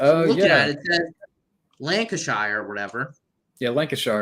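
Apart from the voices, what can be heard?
No distinct noise like a dog, phone or traffic.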